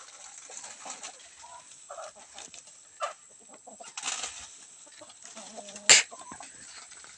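Newly hatched chicks and hens on a farm, with faint peeping and soft clucking over a quiet background, and a sharper louder call near the end.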